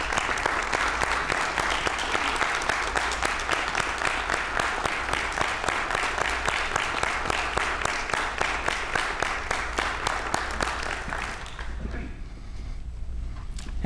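Audience applause for educators at a university hall of fame ceremony, a long sustained round of many hands clapping at an even level, dying away near the end to a quiet room.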